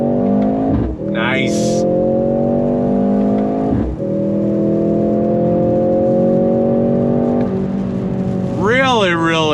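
A 2024 Mercedes-AMG GLC 43 all-wheel-drive performance SUV accelerates hard on throttle, its engine note climbing steadily through the gears with brief dips at shifts; a voice speaks briefly over it.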